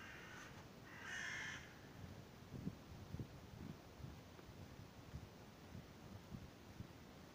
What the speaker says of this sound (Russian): Там вороны устроили перекличку.